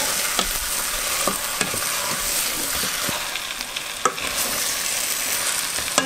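Chicken pieces stirred and frying in a pot, a steady loud sizzle running throughout with repeated scrapes and taps of the spoon against the pot.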